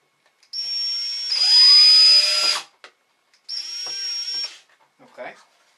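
Cordless power drill driving screws during a Axial SCX10 RC crawler axle build, two bursts of high whining motor with a rising pitch, the first longer and louder, then a brief clatter.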